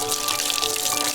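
Water is poured onto hands, a steady close splashing stream that runs continuously for the whole moment without pause.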